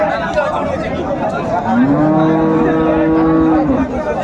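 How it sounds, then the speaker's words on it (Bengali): Cattle, cows with calves, at a village livestock market; one loud, drawn-out moo rises over a busy backdrop of people chattering nearby. "সুন্দর গাভী বাছুর কালেকশন করছে বেলাল ভাই"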